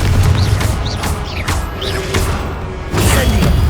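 Confringo spell cast in Hogwarts Legacy, a loud, dense blast of magical whooshes and rumbling impacts that keeps going without a break, with a fresh surge near the end.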